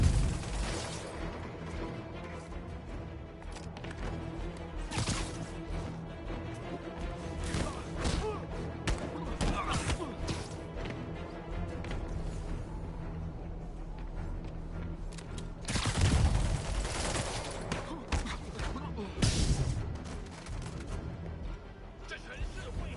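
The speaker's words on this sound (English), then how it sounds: "They got rockets!" Rockets fired at Spider-Man in the Spider-Man video game: repeated thuds, bursts and crashing impacts over a steady game soundtrack, with heavier blasts near the end, while someone talks over much of it.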